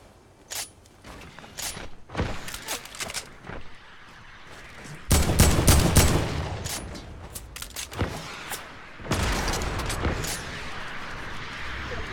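Gunfire in Fortnite Battle Royale, with sporadic sharp shots and heavier bursts that swell into sustained rattling volleys and booms. The firing is spread unevenly through the clip and sits over game ambience.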